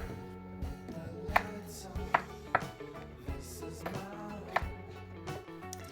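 A knife chops zucchini into sticks on a cutting board, several sharp uneven taps over a steady low background hum.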